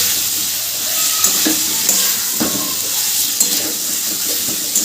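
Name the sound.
stir-frying spice masala with jackfruit curry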